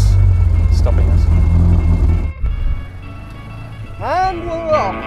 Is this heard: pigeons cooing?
no